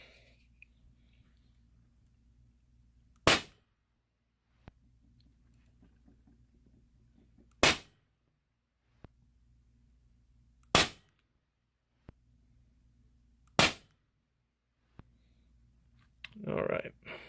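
A DrozdMax air gun fires lead shots, four sharp loud cracks spaced several seconds apart with faint mechanical clicks and handling between, close up, and a brief rustle at the end.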